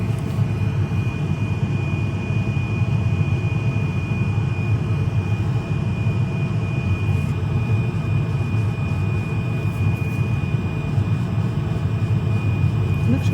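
An electric nail file runs at 11,000 RPM during a waterless pedicure, giving a constant high whine over a dense, steady hum that continues unbroken throughout.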